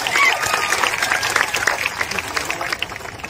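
A crowd at a Marathi political gathering claps loudly and continuously, with a thick wash of hand claps that fades slightly toward the end, and scattered voices mixed in.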